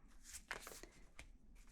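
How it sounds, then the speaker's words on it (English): A deck of cards is shuffled close to the microphone in a quiet ASMR setting, giving soft riffling and brief papery flicks at low volume. "So let's shuffle them, shall we?"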